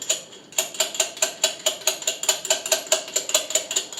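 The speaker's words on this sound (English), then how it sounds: "let me take these two little nuts off real quick" Rapid ratcheting clicks from a wrench backing off nuts that hold a brake rotor on a Dana rear axle, a steady close rhythm of sharp repeated clicks.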